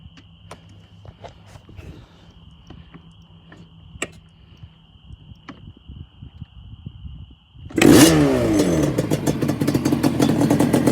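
A Yamaha Banshee 350 ATV, a two-stroke running 32:1 premix, is silent apart from faint clicks and ticks until it starts abruptly near the end and settles into a loud, close, steady idle.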